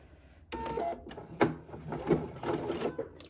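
A sewing machine stitches two strips of piping together with a regular-length stitch, starting abruptly and running in short bursts of rapid mechanical whirring and clatter, close and fairly loud.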